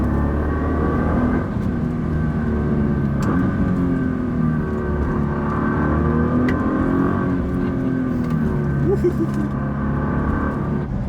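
A Nissan GT-R driving on local roads, a loud steady engine drone from inside the car with slight rises and dips in revs over road noise.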